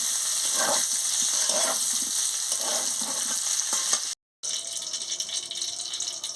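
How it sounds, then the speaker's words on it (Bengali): Prawns fry in oil in a wok with a constant crackling sizzle, close and steady, broken by a few soft stirring scrapes and one short silent gap before the sizzle resumes. "এবার আমি চিংড়ি মাছটা ভেজে নিচ্ছি।"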